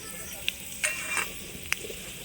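Fenugreek seeds and a torn dried red chili tempering in hot mustard oil in a kadai give off a soft, steady sizzle, broken by a few sharp pops and stirring clicks, with no talk.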